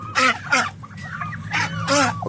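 Turkeys, including males, and other backyard poultry such as chickens and ducks give several loud nearby honking calls in short bursts.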